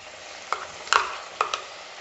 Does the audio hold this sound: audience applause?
no